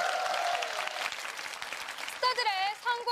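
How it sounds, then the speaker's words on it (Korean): Studio audience applauding at the taping of a Korean TV lecture show, a brief crowd clapping wash that quickly gives way to a voice speaking over the dwindling claps. "박수 많이 쳐주실 거죠?"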